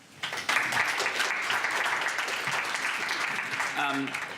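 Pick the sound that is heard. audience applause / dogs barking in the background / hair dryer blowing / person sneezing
audience applause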